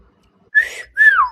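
A person on a livestream whistles two short notes, the second sliding downward, clear and close against near silence.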